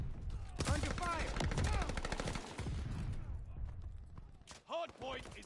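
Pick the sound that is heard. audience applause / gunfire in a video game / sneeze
gunfire in a video game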